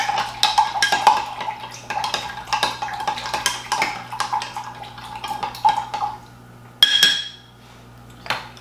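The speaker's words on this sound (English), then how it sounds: "So we're gonna give it a good little swirl here with the bar spoon." A metal bar spoon stirs a smoked Old Fashioned with cherries in a glass, making a rapid, steady run of bright clinks and scrapes that stops briefly, then a sharper clink and a few final taps.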